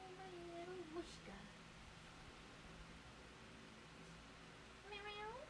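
Two cat meows, a low drawn-out one near the start and a rising, higher one at the end, over a steady hiss with a person talking close by.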